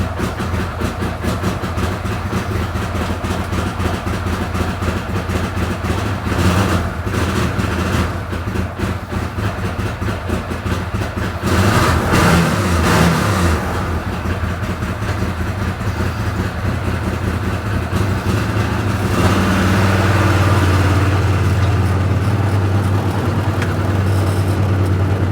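A 2014 Arctic Cat Wildcat 1000X side-by-side engine runs steadily and loudly, idling with a throbbing rumble and swelling in a couple of revs, including a stronger rise near the end.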